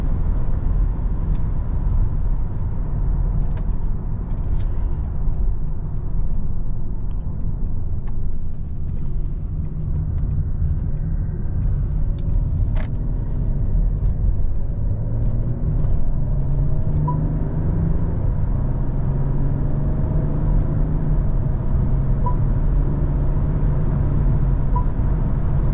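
Steady low road roar and tire rumble inside a Mercedes-Benz GLS450d 4MATIC cruising fast at night, a constant muted cabin drone with faint occasional ticks and no talking.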